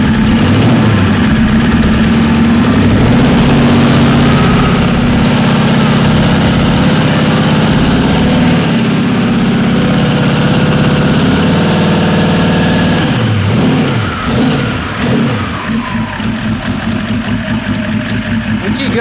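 A car engine with a new turbo setup and billet plenum fires up for the first time and idles loud and steady, with a few revs and a lumpier rumble late on.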